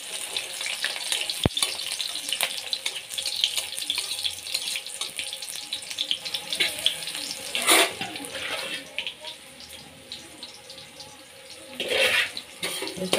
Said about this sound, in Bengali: লাল লাল করে ভাজবো বেশি ভাজবো না